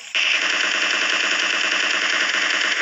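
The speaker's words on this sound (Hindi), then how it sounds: "लेकिन तभी इतना गंदा फायर होता है कि हम बार बार बचे" Automatic weapon fire in a battle royale video game, one unbroken rapid burst lasting nearly three seconds, loud and close, with no talk.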